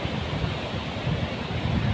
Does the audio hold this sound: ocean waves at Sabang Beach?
yes